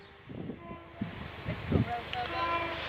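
A ScotRail Class 170 Turbostar diesel multiple unit passes Brough East level crossing in the East Riding of Yorkshire, a steady rumbling rail roll with rhythmic wheel thumps building toward the end, under brief talk.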